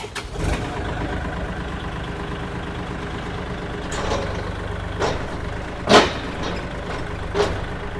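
A Kubota L4018SP tractor engine runs steadily at low revs during a test drive, a constant mid-low drone with a few brief louder knocks and clunks; nobody speaks.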